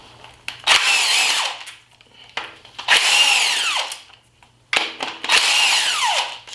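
Three bursts of a power tool whining as it spins out 10 mm bolts on a seized Hyundai Sonata engine, each run lasting about a second and a half, close and loud, with short quiet gaps between.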